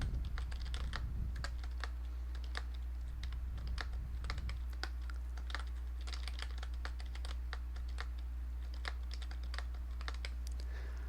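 Rapid typing on a computer keyboard as a username is entered, a steady run of light, close key clicks with brief pauses, set over a low constant hum with no talking.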